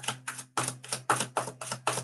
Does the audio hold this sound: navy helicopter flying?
no